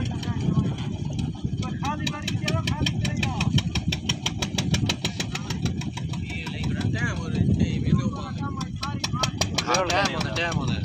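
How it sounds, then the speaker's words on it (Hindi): A Peter engine on a river boat on the Chenab runs with a steady, rapid mechanical chugging throughout, heard close up beneath people talking. "ये इस पे क्या पीटर लगा हुआ है इंजन? ये जी स्टार्ट हो गई है"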